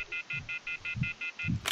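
Touch-tone beeps from a telephone being dialed in a horror video game, nine short, evenly spaced tones in a quick steady rhythm, clear and close over a faint low background.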